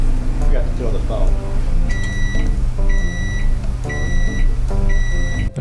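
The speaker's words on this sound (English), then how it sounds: "timing it right up to match the microwave for comedic effect" A microwave oven hums steadily while its high electronic beeps sound four times at roughly one-second intervals, loud and close, over the low running drone.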